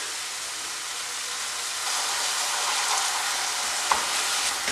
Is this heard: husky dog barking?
no